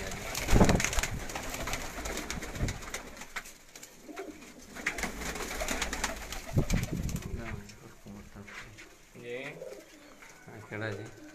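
Teddy pigeons coo softly nearby, with a few fluttering bursts as birds take off, while someone talks over them.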